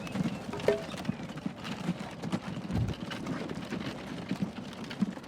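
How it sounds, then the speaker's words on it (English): Horse hooves clip-clop steadily from a small horse-drawn cart in the Transport Fever 2 video game, a moderately loud rhythmic trot over a busy background of ambient game sounds. "I see our little horse-drawn cart come out and head over."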